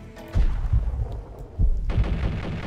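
Gunshots ring out in the video game Max Payne, several heavy booming blasts in quick succession with rumbling tails, loud and close, with no talk over them.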